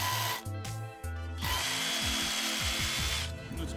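A DeWALT cordless rotary hammer, the DCH263 or DCH133, drills in short bursts with harsh, loud grinding, revving and slowing between bursts, close up with no talk.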